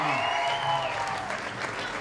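Applause from an audience at a certificate (CFC) award ceremony as class C3G is called up, a steady dense wash of clapping with a voice speaking over it.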